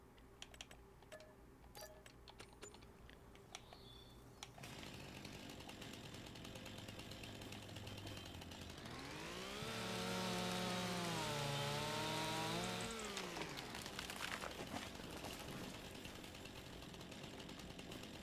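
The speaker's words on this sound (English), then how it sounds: "I love having the chainsaw that like gets you to run really fast." Chainsaw in Farming Simulator 25: a steady buzzing drone through much of the passage, swelling into a louder revving whine for a few seconds before settling back, with light clicking like keyboard typing near the start.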